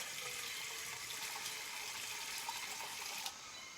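Water flows steadily along a walking route, a continuous close rushing hiss that holds at an even level for a few seconds with no talk.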